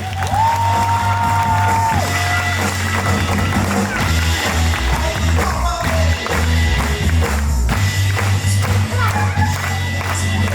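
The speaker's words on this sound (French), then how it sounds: "je voudrais qu'on applaudisse très très fort Laurie" A theatre audience at a stage performance of The Prom applauds and cheers, claps and whoops mixed with loud music and a voice, filling the room continuously at high level.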